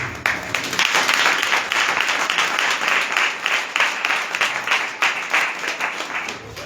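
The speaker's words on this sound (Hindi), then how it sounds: "जोरदार ताली बजाएं" An audience in an Assemblies of God church breaks into loud, sustained applause, many hands clapping together in a dense, steady wash that fades slightly toward the end.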